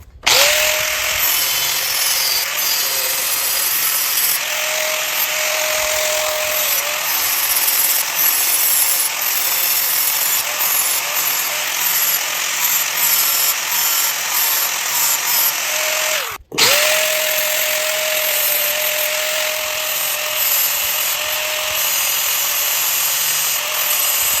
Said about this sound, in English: You can take your grinder and just grind that whole thing right off of there.